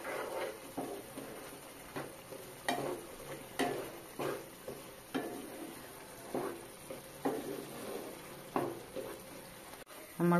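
Spiced masala is stirred and sautéed in a pan for an egg omelette curry, a spatula scraping the pan in a steady rhythm of repeated knocks over a soft sizzle, with a person speaking now and then.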